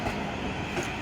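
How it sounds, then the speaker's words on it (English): A Southwestern Railway class 444 electric unit, 444010, pulls out of London Waterloo bound for Portsmouth Harbour, giving a brief, steady rumble of wheels and traction noise close by. "Now departing is 444010 on a Southwestern Railway service bound for Portsmouth Harbour."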